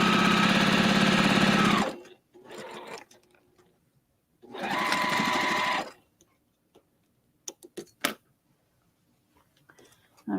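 Two loud, close bursts of a sewing machine stitching a quilt block, each a rapid steady whir lasting about two seconds, with quiet handling clicks and small taps between and after.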